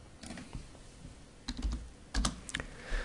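Keystrokes on a computer keyboard as numbers are typed in, a few irregular clusters of close, crisp clicks with short pauses between them and no voices.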